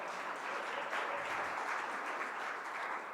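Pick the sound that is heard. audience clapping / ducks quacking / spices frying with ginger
audience clapping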